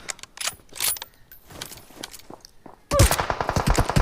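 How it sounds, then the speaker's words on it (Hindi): Gunfire in the PUBG/BGMI battle royale game during long-range sniping, with scattered distant shots early, then a loud close burst of rapid rattling fire near the end. "लेकिन हम दूर स्नाइपिंग कर रहे हैं"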